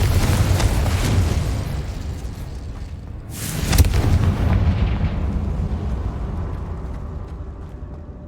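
Confringo fire-spell explosion in the Hogwarts Legacy video game: a deep, rumbling blast swells up, with a sharper burst about midway through, then a long roaring decay, loud with no talk.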